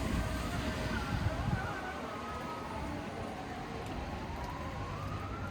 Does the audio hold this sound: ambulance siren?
yes